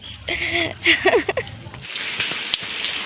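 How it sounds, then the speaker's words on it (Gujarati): Steady rain falls in a village, a soft continuous hiss of drops on surfaces, with a voice and brief sounds over it early on before the rainfall carries on alone. "ખજારાનો વરસાદ ચાલુ છે"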